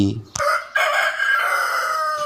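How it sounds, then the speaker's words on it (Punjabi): A rooster crows loudly and close, one long drawn-out call that holds steady to the end after a short sharp start. "ਵੇੜੇ 'ਚ ਖੜੇ ਕੁੱਕੜ ਨੇ ਛਾਤੀ ਤਾਣ ਕੇ ਜ਼ੋਰ ਦੇਣੀ ਬੰਗ ਦਿੱਤੀ"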